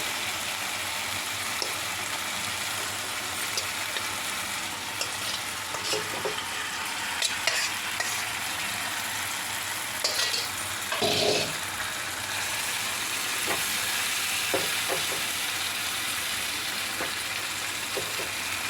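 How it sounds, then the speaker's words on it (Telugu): Soaked fish pieces cook in a fish curry pan, with a continuous soft sizzle and bubbling, occasional stirring scrapes and a louder splashy burst midway. "మనం ఈ నానబెట్టుకున్న చేపలు కూడా ఇందులో పెట్టాలి"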